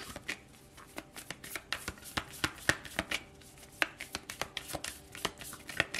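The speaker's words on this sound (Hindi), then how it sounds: "थोड़ी सी और कार्ड्स को शफल कर लेते हैं।" Tarot cards shuffled by hand in quick, irregular riffles and slaps, many crisp close flutters repeating for several seconds, fairly quiet and without speech.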